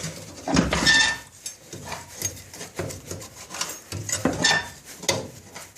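Nails raked out of the ash pan of a pyrolysis boiler, producing close metallic scraping and clinking in uneven bursts, loud and jangly, without voices.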